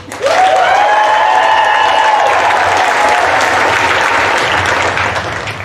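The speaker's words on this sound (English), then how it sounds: "a huge round of applause for the SHS class of 2021" Loud applause and some cheering from a crowd at a high school graduation for the class of 2021. It swells quickly, holds steady and begins to fade at the end, with a whistle early on.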